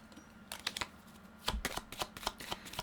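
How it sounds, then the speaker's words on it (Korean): Tarot cards being drawn and shuffled during a weekly zodiac reading: a quick series of crisp riffling and flicking bursts, close and moderately loud, with no talking. "추가 카드를 조금 뽑아보도록 할게요"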